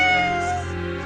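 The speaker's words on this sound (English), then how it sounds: "That was a cat." A cat in a video game lets out one drawn-out meow, loud and close, fading slightly toward the end with no talk over it.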